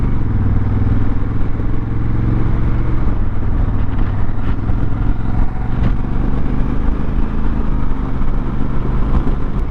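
Riding a 2025 Honda Africa Twin with the DCT automatic gearbox, the engine drones steadily and loudly throughout, with slight changes in tone as the bike upshifts smoothly, under constant wind and road noise.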